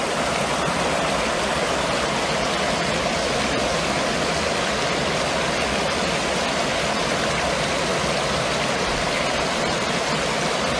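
River water rushes in a constant, dense hiss, steady and unbroken throughout, like a fast-flowing stream or rapids heard up close.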